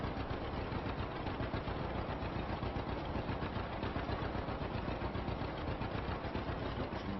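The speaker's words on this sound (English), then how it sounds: "Tractor plodding along at 7 miles an hour" A 1949 farm tractor engine chugs steadily while cultivating a field at about seven miles an hour, a continuous close rhythmic drone with no talk.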